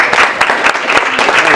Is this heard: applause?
yes